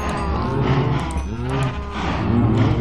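Minecraft cows in the Agrarian Skies modpack mooing repeatedly, several overlapping low lowing calls from a crowded herd, loud and close throughout.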